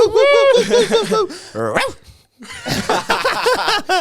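People voice dog barks and yips, several voices mimicking a dog in quick loud bursts amid talk and laughter, with a short pause before more imitated barking.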